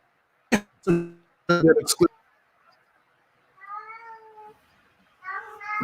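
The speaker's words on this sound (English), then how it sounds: "I can hear your cat" A cat meows twice, a drawn-out call followed by a shorter one, nearby and fairly clear after a stretch of brief talk.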